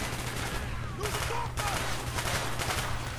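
Sustained rapid gunfire from a weapon in the Black Ops video game campaign, a dense continuous rattle of shots with brief louder bursts, heard fairly loud throughout.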